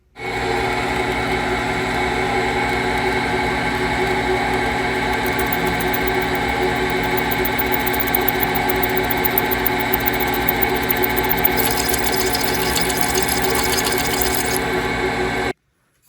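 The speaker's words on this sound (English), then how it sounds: "I managed to accidentally drill into the trunnion a little bit" Electric drill boring through rivet holes in a Romanian MD65 underfolder AK front trunnion and receiver, a steady high whining motor drone with grinding bite running continuously and alone for about fifteen seconds before cutting off.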